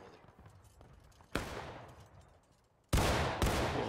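Musket volleys in War of Rights, an American Civil War game: two sharp, loud shot bursts with fast follow-up reports stand out against a background of distant scattered gunfire.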